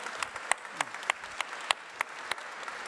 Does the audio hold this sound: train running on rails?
no